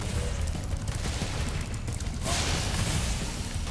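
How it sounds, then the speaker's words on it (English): Fireworks burst and crackle in a rapid, continuous barrage in a Spyro Reignited Trilogy level, dense popping blasts filling the scene with a brief whooshing lull partway through, loud and close. "Don't stay so close to those fireworks"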